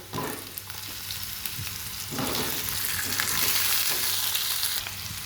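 Potatoes frying with lightly browned onions in a wok, a steady sizzle and crackle with occasional stirring scrapes, fairly close and continuous, swelling louder midway.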